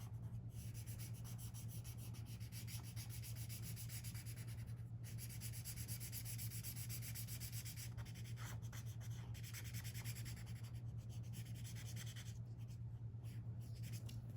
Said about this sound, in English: I'm just gonna color in the part that's underneath here